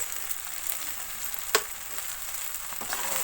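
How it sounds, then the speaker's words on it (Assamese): Cooked rice is stir-fried in a hot pan for fried rice, giving a continuous sizzle with a sharp scrape of the stirring utensil midway. No one speaks. "মই এতিয়া ধুনীয়াকৈ লৰোৱাই ভাজি ল'ম"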